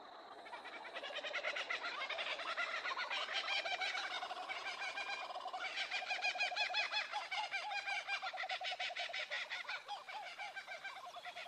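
Kookaburras in Australian eucalypt forest giving their dawn chorus, a loud rhythmic cackling laugh that rises and swells in repeated bursts and carries on for the whole stretch with no talk.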